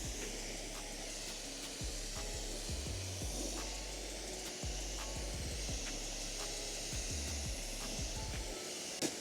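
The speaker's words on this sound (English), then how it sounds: "Let's start the rinse process." Water sprays in a steady hissing stream as a car is rinsed off after a ceramic coating has been applied, a continuous moderate spray marked by occasional low thumps and bumps.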